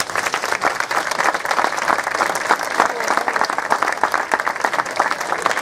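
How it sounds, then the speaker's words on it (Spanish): Loud, dense applause from a festival crowd in San Andrés welcoming a presenter to the stage, steady and continuous with a murmur of voices beneath the clapping. "recibamos con un fuerte aplauso a Magali Cáceres"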